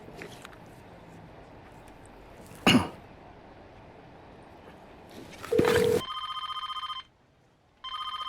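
A telephone rings unanswered, a near bell-like tone sounding in repeated bursts after a cough and a short rustle, with a brief gap between rings.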